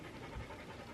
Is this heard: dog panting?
yes